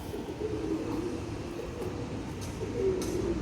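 Pigeons coo in a low, steady murmur at a pigeon farm, a continuous soft rumble of several birds close by with no talking.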